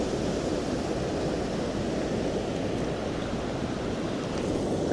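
A South Wales river in flood rushes steadily, a loud, dense roar of churning water with no pause, heard alone and close by.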